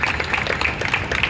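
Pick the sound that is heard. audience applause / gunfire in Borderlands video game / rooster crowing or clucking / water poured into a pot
audience applause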